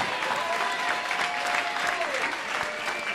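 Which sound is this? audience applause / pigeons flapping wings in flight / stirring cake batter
audience applause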